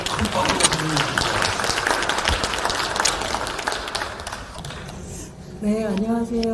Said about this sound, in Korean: 다시 한번 큰 박수로 부탁드립니다